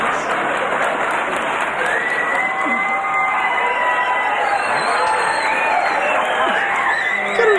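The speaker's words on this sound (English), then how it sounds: "Get an applause break within an applause break." A comedy club audience at a Louie Anderson stand-up special applauds steadily and loudly for the whole stretch, a dense, sustained wash of clapping with some cheering mixed in.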